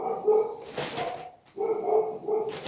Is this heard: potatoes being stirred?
no